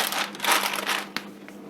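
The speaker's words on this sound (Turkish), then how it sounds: "bu şekilde yağlı kağıtla üzerine kapatıp bunu fırına atalım" Parchment baking paper crumpled and pressed over a tray of sea bream before it goes into a fan oven, giving a close, continuous crinkling and rustling with a sharp crackle near the end.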